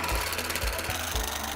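An electronic sewing machine runs at high speed with its speed control turned up, giving a continuous close mechanical whir with a rapid pulsing beat throughout.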